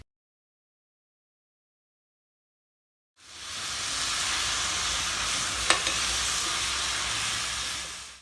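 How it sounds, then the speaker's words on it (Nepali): After a few seconds of silence, mustard greens and tomato start frying in a pan with a loud steady sizzle, broken by a single sharp clink of a utensil partway through. "यसरी टमाटर पाकिसकेपछि अब रायोको सागलाई टमाटरसँगै मजाले पकाउनुपर्छ।"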